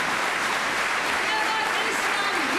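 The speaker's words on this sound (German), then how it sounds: "Draußen jubeln Leute, weil der Prinz wieder da ist" Offstage, a crowd cheers the return of a prince in a stage comedy. The cheering and clapping form a dense, continuous roar with dialogue spoken over it.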